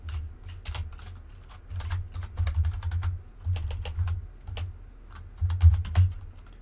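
Code is typed on a computer keyboard in quick irregular bursts of close clicking keystrokes, with short pauses between runs and no talk.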